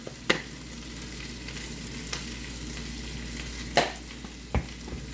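Two yellow onions sizzling and frying in a pan with salt and pepper, a steady close crackling hiss broken by a few sharp scrapes and clacks of stirring.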